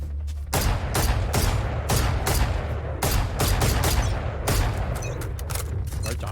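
Rapid, loud bursts of gunfire from the shooter video game Valorant, firing in repeated volleys and sustained strings with no pauses between.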